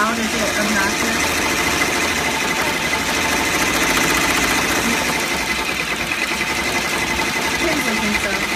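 A sewing machine runs steadily throughout, a continuous mechanical hum and rapid rattling at close range with no pauses, while a person talks over it.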